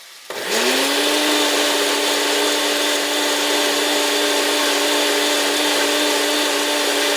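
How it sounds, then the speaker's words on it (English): A blender starts abruptly and whirs loudly and steadily as it blends a ginger spice mix, its motor holding a constant high-pitched whine with no talking over it. "let's blend the ginger spice mix that we just prepared"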